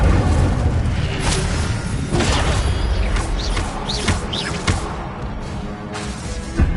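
Incendio fire spells blasting in Hogwarts Legacy, a dense run of loud booming bursts and crackling impacts over steady game noise, with several sharp hits spaced through the stretch.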